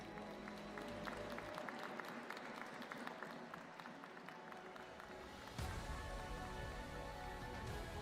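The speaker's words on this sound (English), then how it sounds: "a round of applause for Wei Yi" A chess tournament audience at the Esports World Cup claps in sustained, dense applause that swells abruptly louder partway through and keeps going to the end.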